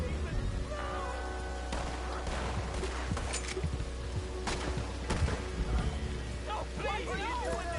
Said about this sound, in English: Why are they firing so close to us?